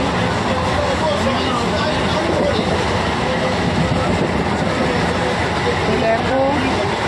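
Steady loud rumble and rattle of a train running, heard from inside a carriage, with continuous wheel noise and faint clacking throughout and no clear talk.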